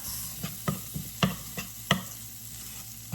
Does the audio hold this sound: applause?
no